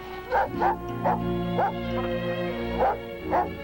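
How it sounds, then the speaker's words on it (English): A dog barks and yips in short, repeated bursts at a hurt baby otter caught in a trap, about six or seven in a row, fairly close, with a steady low hum underneath. "barking wasn't helping it any either"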